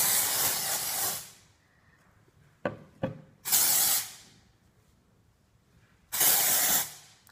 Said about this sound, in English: Some days I just spray it on just so that I've got a nice coconutty scent on my hair.